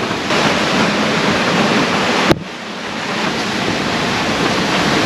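Strong wind gusts buffet the microphone over rushing waves aboard a sailboat in 25-knot squalls, forming a dense, continuous roar with one sharp knock midway before the noise swells again.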